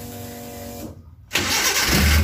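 A Suzuki Carry 1.0 fuel-injected engine is cranked by the starter, goes briefly quiet, then catches and settles into a loud, close, steady idle.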